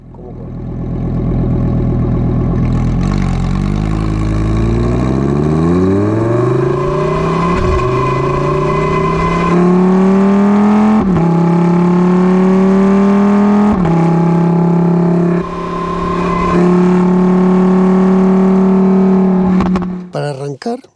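A Lamborghini Huracán Sterrato pulls away on a street, its engine loud and close, revving up through rising pitch sweeps with gear changes and a sustained drone, then cutting off sharply near the end.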